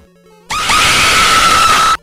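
A loud, sustained scream sound effect played on a live stream, bursting in abruptly and holding at full volume for about a second and a half before cutting off sharply.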